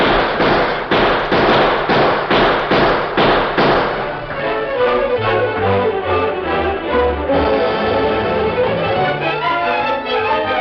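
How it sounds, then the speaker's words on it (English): Gunfire sound effects in an old-time radio western shootout: a burst of sharp, rapid, evenly spaced shots up front, then a denser, rumbling volley of overlapping shots that continues loud and unbroken to the end. "There must be 50 men shooting at it from those hills."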